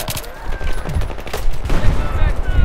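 Dense gunfire in the Battlefield 3 multiplayer video game: continuous bursts of rapid shots, loud and close, layered over constant battle noise.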